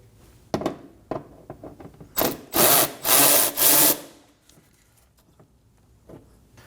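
A T20 socket works a bolt loose on a Nissan Armada during washer reservoir removal, giving a few sharp knocks followed by several loud, rasping bursts of ratcheting or driving, then quieter handling clicks.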